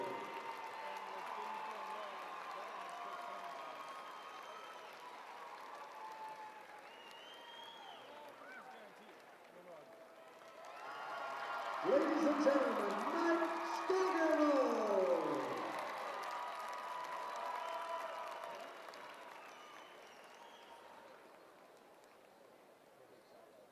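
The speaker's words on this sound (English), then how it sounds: "please join us now as we honor with a warm round of applause Mike Skogerdo of Ogden" A crowd at a high school state basketball tournament in a gym gives a warm round of applause, swelling midway into cheers and whoops, while an announcer speaks over the public address at the start.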